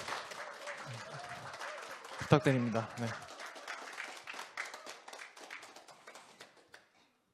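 Members at an elementary teachers' union general meeting applauding: a spoken request from a voice in the hall gives way to a crowd's burst of clapping, which fades out gradually over several seconds.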